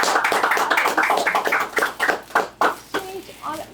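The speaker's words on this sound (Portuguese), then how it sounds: "Aqui uma salva de palmas pra Isa." A small group claps in quick, uneven bursts for a podcast guest, loud and close, fading toward the end as voices begin talking over it.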